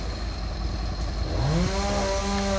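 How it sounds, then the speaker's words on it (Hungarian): Chainsaw cutting storm damage after an ice storm in Dunaharaszti, a loud close engine that revs up and holds a high whine over steady rumbling background noise. "itt fűrészelnek valamit"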